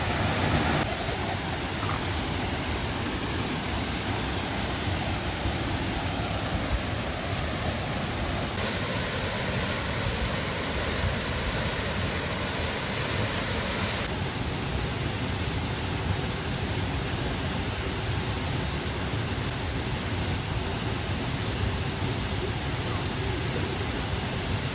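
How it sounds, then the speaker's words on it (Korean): Yongchu waterfall in Hamyang pours heavily, a loud, steady, unbroken roar of falling water filling the whole stretch with dense rushing noise. "물량도 많고 시원하니 물 폭포 떨어지는 게 절경입니다"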